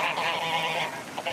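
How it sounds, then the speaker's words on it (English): Geese honk steadily and loudly at a park pond, a dense overlapping chorus of calls filling the whole moment with a brief dip near the end, no voices. "we're pretty excited to have baby geese up here at Sullivan's Pond"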